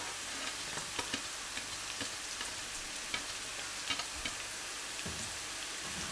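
Ginger and garlic sizzle in a pan with browned ham, a steady broadband fry with scattered pops and faint stirring scrapes throughout, close and continuous with no talk.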